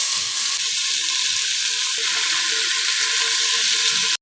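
Tomato and green chilli hitting hot oil in a pan, giving a loud, steady, continuous sizzle that runs unbroken for the whole stretch with no talking.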